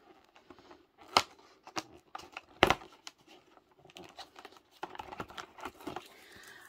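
A cardboard window on a Milka chocolate advent calendar is pried open up close, giving soft crackles and papery taps with two sharper snaps partway through.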